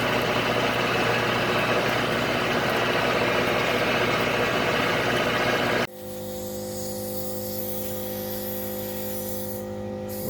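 A farm tractor engine runs steadily at about 1800 RPM while planting, a loud continuous drone that cuts abruptly partway through to a quieter, steady running hum with no talk.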